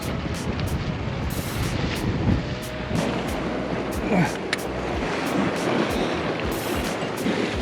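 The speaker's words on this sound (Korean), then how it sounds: "이 바람과 파도 속에서" Strong wind and breaking sea waves roll steadily around a rocky seaside fishing spot on Gageodo island, forming a loud continuous roar with gusty surges, and faint voices come and go underneath.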